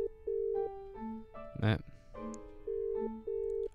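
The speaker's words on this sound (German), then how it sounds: "Nochmal das Telefon?" A telephone rings inside the video game Dream as a steady electronic tone alternating between two pitches in repeated bursts, with a short spoken interjection cutting in midway.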